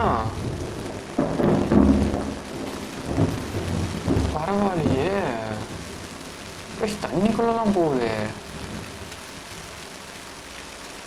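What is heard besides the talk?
real rain falling with thunder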